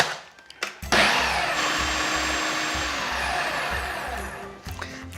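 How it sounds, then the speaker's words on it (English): A blender blitzes a Greek lamb rib sauce in one continuous loud whirring burst of about four seconds, preceded by a few handling knocks and ending with a quick spin-down. "now I'm just going to combine this, but not blitz it too much"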